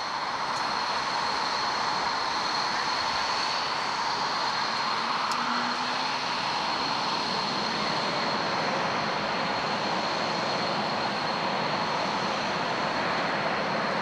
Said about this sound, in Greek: Τα 4 αεροσκάφη θα σηκωθούν και αυτά το ένα μετά το άλλο